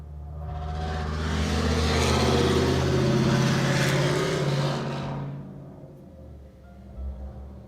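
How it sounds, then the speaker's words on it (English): A loud truck passing outside swells from a low rumble into a broad roaring pass that peaks midway, then fades away, leaving a quiet low hum with a faint bump near the end. "Wow, that is a loud truck outside."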